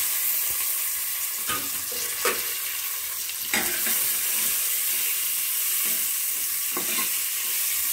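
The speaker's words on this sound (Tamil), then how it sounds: "இப்போ வந்து வெங்காயம் சேர்த்துக்கலாங்க." Sliced onion frying in oil in a pan with curry leaves, for a spinach gravy, sizzles loudly and continuously up close, with occasional scraping stir strokes.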